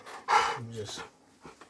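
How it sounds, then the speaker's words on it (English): A pet dog pants and snorts in quick, close bursts, excited and restless, with a short whimpering breath near the end. "Sorry, that's my dog."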